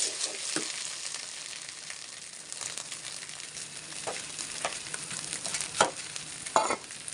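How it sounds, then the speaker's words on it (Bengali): Rice frying and being stirred in a pan, with a steady close sizzle broken by occasional sharper scrapes and clinks of the spoon, and no voices. "চালটা দেখুন ভাজা ভাজা হয়ে গেছে"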